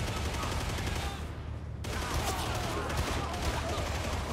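Rapid gunfire from weapons in the video game Darktide, a dense continuous barrage of shots with booming low end that briefly thins near the middle before resuming at full loudness.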